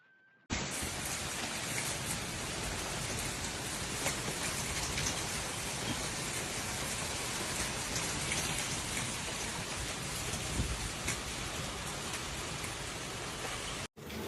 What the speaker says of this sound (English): Rome was hit by a sudden and violent hailstorm